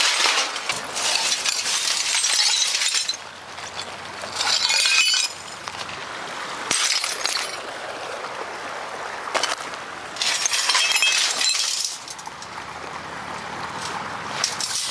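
Old CRT screens are smashed with rocks and BB guns outdoors. Repeated bursts of shattering glass and sharp clinks alternate with quieter gaps over about fifteen seconds.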